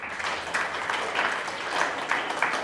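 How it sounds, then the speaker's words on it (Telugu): Audience applause at a closing ceremony of an eye-donation campaign fortnight at the Atheist Centre, steady dense clapping from a crowd, moderately loud and continuous for a few seconds with no talking. "చప్పట్లు కొట్టిన ఒకసారి."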